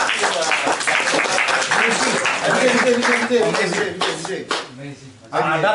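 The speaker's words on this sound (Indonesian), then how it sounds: "Tepuk tangan dulu buat Pak Dede." Applause for a speaker at an Indonesian community organisation gathering, a dense crowd clapping steadily and loudly for several seconds with voices mixed in, thinning briefly near the end before swelling again.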